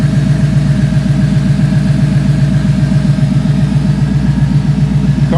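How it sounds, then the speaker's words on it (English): A car engine runs loudly and steadily up close, a deep throbbing idle with an even mechanical pulse throughout. "the car definitely sounds different."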